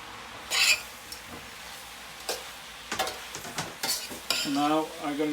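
Onions and a large green pepper fry in a pan for a British Indian restaurant base gravy, with soft sizzling under sharp metallic scrapes and clinks as a utensil stirs. The stirring strokes come at irregular intervals, close and clear.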